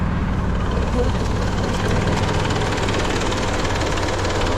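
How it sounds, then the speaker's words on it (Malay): Engine idling steadily and loudly at an accident scene during a motorcycle ride, a continuous low rumble with voices talking over it. "Eh, boleh bagi mati enjin?"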